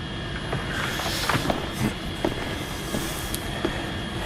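Steady broadband roar of an airliner's engines inside the passenger cabin in flight, a constant even drone with faint scattered clicks and rustles over it.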